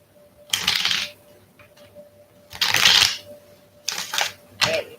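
Tarot cards being shuffled in four quick riffling bursts, close and crisp, separated by brief quiet pauses.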